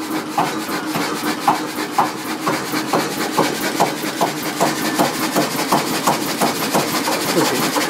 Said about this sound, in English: if we lift this up, the engine runs quicker